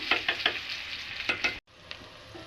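Okra (ladies finger) sautés in a pan, its sizzle pulsing with repeated stirring strokes before a brief cut and a quieter continued hiss.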